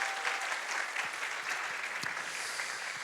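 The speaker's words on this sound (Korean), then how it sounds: "우리 감사한 마음을 담아서 우리 박수 한번 보내드릴까요?" An indoor audience at a talk applauds, a steady moderate patter of many hands clapping throughout with a few sharper individual claps.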